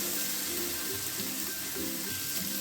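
Ginger paste sizzles as it is sautéed in a pan while cooking a chela fish curry, a continuous close frying hiss with faint stirring scrapes, and no talk.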